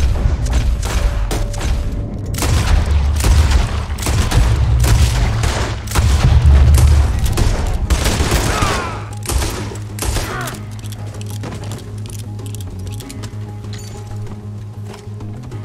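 Gunfire in a Red Dead Redemption 2 shootout, dense bursts of shots and booms over the first ten seconds, mixed with thuds and hoofbeats, then easing off into quieter scattered background action.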